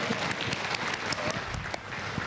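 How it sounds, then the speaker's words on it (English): Audience applause for a volunteer at a storytelling keynote, a steady dense crackle of many hands clapping at once, moderately loud and continuous throughout with no pauses. "Let's give a round of applause."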